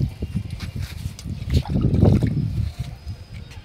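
Jeevamrutham liquid is poured onto potted plants, giving close, uneven splashing and trickling with a heavier gush in the middle and some handling noise; no speech.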